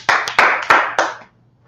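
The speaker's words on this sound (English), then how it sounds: "Clap it up for the class." Four sharp, evenly spaced hand claps from a small group at a religious class gathering, close and distinct, stopping abruptly into near silence.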